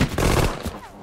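A short, dense burst of gunfire in the World War II strategy game Sudden Strike 4, during a D-Day mission: loud overlapping shots at first, then fading quickly into a rumbling tail.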